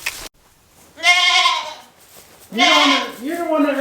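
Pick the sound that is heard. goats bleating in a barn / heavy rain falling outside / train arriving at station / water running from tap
goats bleating in a barn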